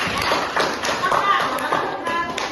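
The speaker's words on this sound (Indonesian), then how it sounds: "Tepuk tangan dulu untuk kelompok sujud tilawah" Dense clapping from a classroom group applauding a student team during a lesson, steady and fairly close, with voices mixed in.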